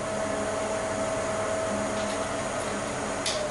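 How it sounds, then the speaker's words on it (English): An exhaust fan runs in the laundry area of a one-bedroom apartment in Northcote, giving a steady, even whoosh with a faint constant hum, alone with no talking. "I'll stop speaking for a moment so you can hear that fan is quite minimal."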